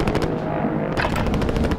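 Rapid automatic gunfire in the Call of Duty video game Plunder mode, a loud close burst of fast repeated shots with a brief pause partway through before firing resumes.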